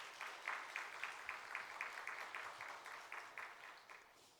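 A church congregation claps together at a dawn prayer service, a steady rhythmic applause with regular beats that fades gradually, fairly faint and without voices.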